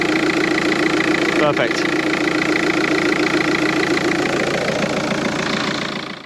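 A Volkswagen MK5 Golf engine idles steadily and close by after a serpentine belt repair, a constant running hum throughout while someone speaks briefly over it.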